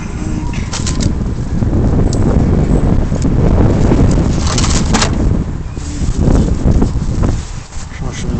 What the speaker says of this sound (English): Wind's been up.